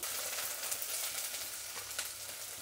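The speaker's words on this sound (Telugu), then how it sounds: "ఎర్రగడ్డ ఈ మాత్రం వేగితే సరిపోతుందండి" Onions frying in oil with mustard seeds and curry leaves, a steady bright sizzle with faint crackles and light stirring, no one talking.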